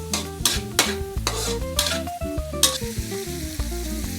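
Onions frying in a pan, a steady close sizzle with stirring scrapes and clatters, under a layer of music with no talk.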